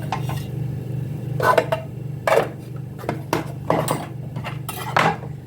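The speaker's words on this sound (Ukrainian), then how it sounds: "Гарненько розмішуємо." A vegetable breakfast mixture stirred in a dish, with irregular close clinks and taps of a utensil against the dish over a low background hum.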